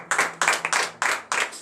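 Congregation clapping in acclamation at a Beninese morning prayer: loud, close, rhythmic claps in distinct bursts about every third of a second, alone without talk.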